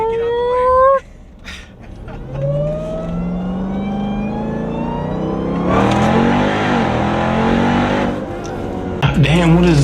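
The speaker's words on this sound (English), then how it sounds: "I love how you hear the supercharger on the downshift." Supercharged 900 hp Jeep Trackhawk engine revving and downshifting, a rising whine and roaring acceleration that swells loud mid-clip, with people talking over it inside the vehicle.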